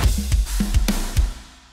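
A short drum pattern of punchy kicks and snare hits, with quiet ghost notes slipped in just before the snare, played at a moderate tempo.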